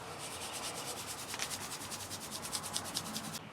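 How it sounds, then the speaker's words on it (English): A sponge with kosher salt scrubs across a Blackstone griddle after cooking: a fast, even back-and-forth gritty rubbing, close and fairly quiet, about a dozen strokes with no voice. "just take the scrubby end and just kind of scrub over it"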